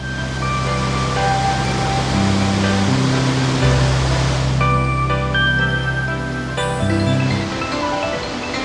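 The Krimml Waterfalls in Austria, a glacial river plunging at up to 40,000 liters per second, give off a broad, continuous roar of rushing water, steady and enveloping, with faint tonal music layered over it.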